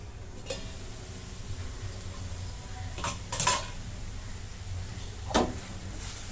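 A lid is set onto a cooking pot of simmering moth bean curry (matki) on a low gas flame, producing a few light metallic clinks and clatters spaced apart against a quiet kitchen background.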